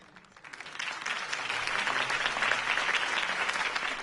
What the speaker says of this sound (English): If only Mr. Wayne, my campaign's largest backer, could have heard that applause, he would...